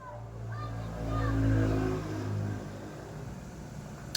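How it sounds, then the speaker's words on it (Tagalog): A passing tricycle engine swells from a low rumble to a louder pass and fades in the morning street, heard mid-distance behind a quiet setting. "kaingay naman ng tricycle"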